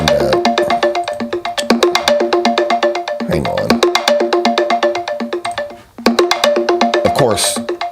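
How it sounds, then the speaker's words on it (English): An internet phone rings with a loud, repeating electronic ringtone, its bursts of pulsed tones broken by a pause and a brief spoken interjection. "Of course, my internet phone rings when I'm on live."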